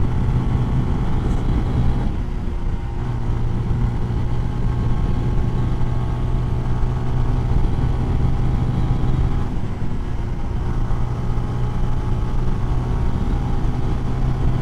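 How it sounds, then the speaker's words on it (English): A CSC SG250 cafe racer motorcycle engine runs at full throttle climbing a hill, a loud continuous drone with wind rumble, holding steady apart from two brief dips, with no talk. "full throttle, going up a hill now"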